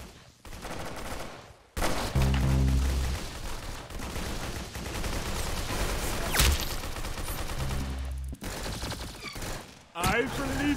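Gunfire in the Clown Infection video game, dense bursts of shots layered over loud game sound and music, continuing almost the whole time with brief breaks, while a person talks throughout.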